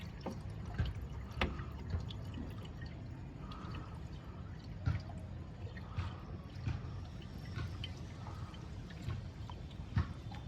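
Water filled into a Suzuki DA64V car radiator during a coolant flush, soft trickling and scattered drips with light clinks, faint and steady with no talk.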